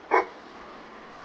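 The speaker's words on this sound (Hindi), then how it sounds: "ये कौन सा कुत्ता भौंक रहा है कब से?" A dog gives a single short bark up close, a brief burst near the start, then only a faint background hush remains.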